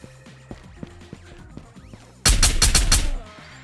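A rapid burst of about six video game gunshots from an M1 rifle, loud and close, cracking out in quick succession after background music and game noise, then falling away.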